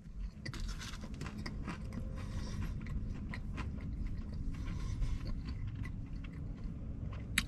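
Close, crunchy chewing of a fried chicken sandwich with pickle and mayo repeats in an irregular rhythm, quiet but crisp, with small crackles between bites and no talking.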